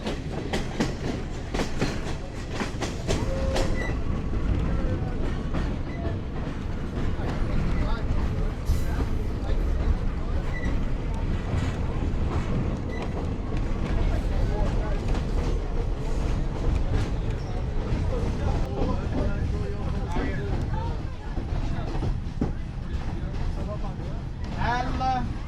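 A passenger train riding toward Ella, Sri Lanka, rumbles steadily with rhythmic clickety-clack of wheels on rail joints, close and continuous, while people talk over the noise inside the carriage.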